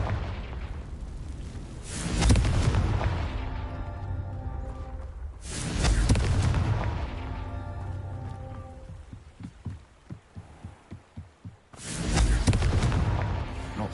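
A Confringo blasting spell from a Hogwarts video game: three loud booming bursts spaced several seconds apart, with a quick run of sharp clicks between the second and third, and no talking.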